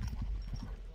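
A young horse galloping uphill, with quick rhythmic hoofbeats thudding on the ground in a short burst, moderately close, with no voices.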